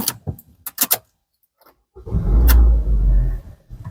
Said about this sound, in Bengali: আই হোপ যে আপনি গাড়িটির ইঞ্জিনের সাউন্ড শুনতে পেয়েছেন কতটাই স্মুথ এখনও এই ইঞ্জিন রয়েছে